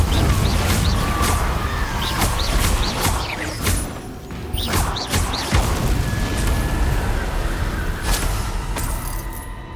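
Incendio fire spell blasts in Hogwarts Legacy, a dense roar with repeated booming bursts and crashing impacts, loud and continuous with faint chirps scattered through it.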